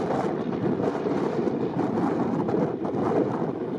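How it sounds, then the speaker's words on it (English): Steady outdoor wind gusting past a parking area near roadside restaurants, a continuous loud rushing with slight swells, no talk. "it's kind of windy out here today"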